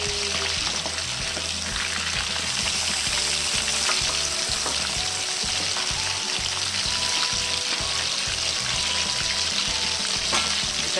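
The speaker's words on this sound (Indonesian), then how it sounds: "kita goreng pakai api besar" Loud, continuous sizzling of shrimp frying in hot oil over high heat, with crackles and spatters and occasional stirring clinks, close by.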